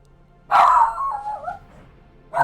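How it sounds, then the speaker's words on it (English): A dog nearby lets out a single loud bark that trails into a whining yelp, followed by the start of another bark, in an otherwise quiet room. "Never mind my dog."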